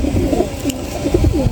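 A pigeon coos close and loud in a short burst of soft, rolling low calls, with no talking.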